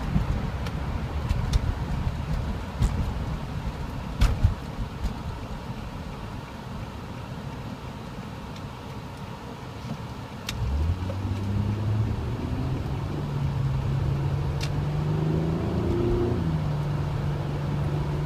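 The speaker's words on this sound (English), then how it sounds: "And it has that really sporty exhaust." An Infiniti G sports car's exhaust begins with wind-buffeted road noise, then swells into a rising, throaty engine tone as the car accelerates hard, building loudly through the second half.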